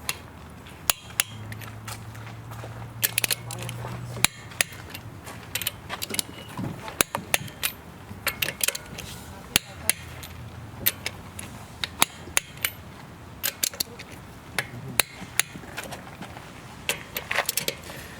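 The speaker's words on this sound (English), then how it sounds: "now we'll use a torque wrench to tighten all the lug nuts to 76 foot-pounds" Torque wrench tightening the lug nuts on a 2019-2026 Lexus UX wheel, sharp metallic clicks and ratcheting clacks in irregular bursts, with brief low hums between them.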